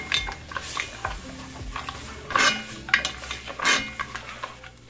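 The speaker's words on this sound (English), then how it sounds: "We're going to go ahead and get all that flavor off the bottom of the pot" A metal utensil scrapes and clanks against the bottom of a Dutch oven pot while making green chili, in a series of irregular close strokes with sharp knocks between them and no talk.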